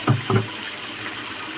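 Water poured into a pan of potato and tomato curry, two short splashing gushes right at the start, then only a faint hiss.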